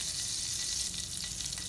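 Steady, crackling sizzle of hot oil heating in a pan for channa masala, continuous and fairly loud, with no voices over it.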